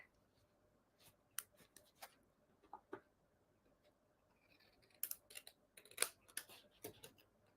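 Scissors snip through excess paper while trimming a handmade card envelope, with sharp close cuts in small irregular bursts between quiet pauses.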